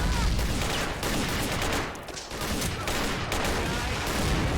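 Dense gunfire crackles through a video game battle at a western wall, with rapid overlapping shots and bursts in a near-continuous barrage and a brief dip midway before the firing swells again.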